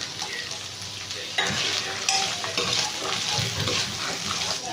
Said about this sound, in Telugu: మనం కొబ్బరి వేసినాక ఒక 2 మినిట్స్ ఫ్రై అయితే చాలండి